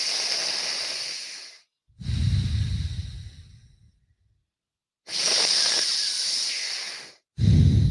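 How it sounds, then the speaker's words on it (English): A person takes deep, forceful breaths during breathwork training, loud and close: long hissing exhales alternate with heavy, rough inhales, with no talking. "These last 3, make them the deepest, fastest breaths yet."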